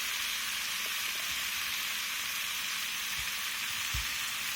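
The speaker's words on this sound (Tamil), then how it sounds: "உப்பு சேர்த்துட்டு இது ஒரு 1 நிமிஷம் நல்லா இது கூட வதக்கிங்க." Soaked quinoa with salt sautés in a pan for pulao, giving a steady, fairly quiet hiss of frying with a couple of faint low knocks from stirring.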